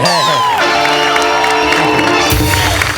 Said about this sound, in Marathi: सर तुम्ही इथे आलेला एकदा जोरदार टाळ्या जॉनी सरांसाठी झाला पाहिजे.